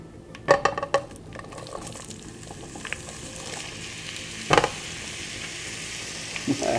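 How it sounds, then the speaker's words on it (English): Onion slices dropped into melted butter in a pan over a medium-high flame, a soft steady sizzle with a few louder clatters and bursts as pieces hit the pan. "Onion slices all broken up, ready to get thrown into the pan."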